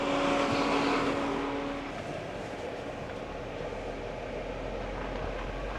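A Jeep's engine rumbles steadily as it backs up and rolls along a rough off-road trail, a continuous close drone with no talking.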